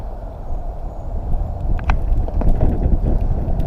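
Wind buffets an outdoor microphone beside a 2016 Ram 1500 pickup, a continuous low rumbling roar that swells slightly louder partway through, with faint ticks over it and no speech.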